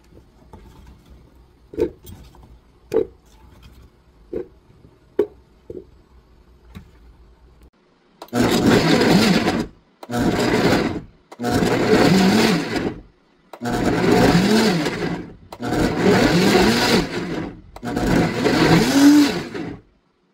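A few faint ticks, then a loud blender whirring through beetroot in six separate bursts, each lasting a couple of seconds with short pauses between.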